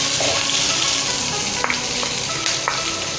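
A large onion, chopped small, fries in a pan with a loud, continuous sizzle up close, broken by a few sharp clicks and ticks of the spatula.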